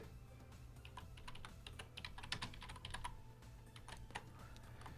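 Text is typed on a computer keyboard in quick, irregular bursts of light, close key clicks with short pauses between them.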